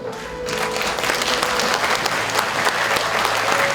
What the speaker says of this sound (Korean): 우리 후보님들 연설 마칠 때마다 격려의 박수 해주실 거죠?